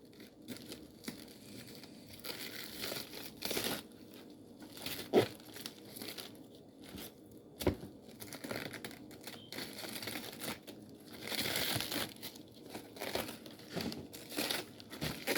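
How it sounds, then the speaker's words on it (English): Lettuce leaves being peeled from a head for a salad make a close, soft, continuous crinkling and rustling, with a few sharper snaps along the way. "I'm peeling my lettuce off the part that I'm going to put in my salad."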